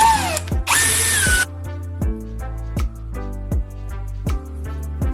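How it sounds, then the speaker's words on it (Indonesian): Power drill widening the hole in a cable tie held in a clamp: a loud whining spin-up followed by a string of sharp rhythmic ticks, close and dominating. "Amankan ikat kabel di penjepit dan perluas lubangnya dengan bor."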